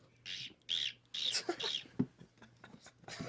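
A person imitates a bird with a few breathy, whistling chirps up close, loose and uneven, and brief mouth noises fall between them.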